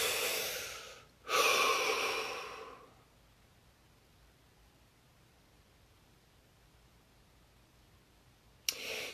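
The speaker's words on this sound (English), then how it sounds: "Deep breath." A person takes deep breaths during a guided session: a long audible inhale and exhale close by, followed by quiet, then the start of another breath at the end.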